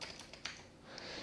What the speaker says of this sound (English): then you're going to type Linux -image